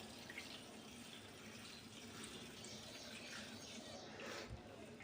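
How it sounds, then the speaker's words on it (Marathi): Bajra millet grains being washed in water, a soft, steady splashing and running-water wash, faint and continuous. "तर आपल्याला सगळी बाजरी धुवून घ्यायची आहे."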